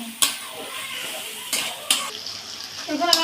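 Fried cauliflower and potato added to spice paste in a pan for a tilapia curry, giving faint sizzling and stirring scrapes with a few sharp clinks over a soft frying hiss.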